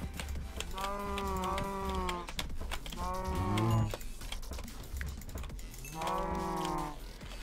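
Cows low repeatedly in Minecraft, several drawn-out moos in separate bursts over a background of keyboard typing.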